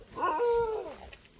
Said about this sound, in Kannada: ಬೋಗ್ಲು ಬಿಸಾಕ್ತಾ ಇದಾವೆ.